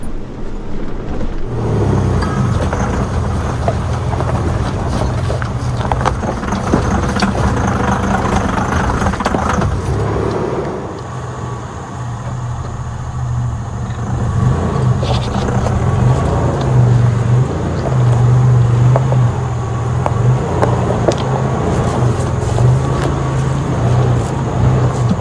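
A Toyota truck with 200,000 miles on it climbs a hill in four-wheel-drive low, its engine holding a steady mid-pitched drone throughout with a low rumble underneath and a slight change in load partway through.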